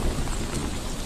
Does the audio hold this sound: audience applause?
no